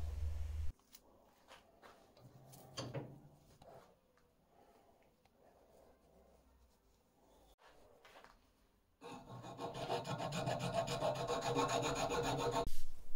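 Filing and sanding a wooden sandeel sea fishing lure, quiet intermittent scraping strokes, then several seconds of continuous rapid rasping rubbing that is close and moderately loud.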